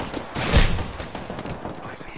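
Video game gunfire, a close burst of several rapid shots with a heavy impact early on, then scattered crackling fire in the background.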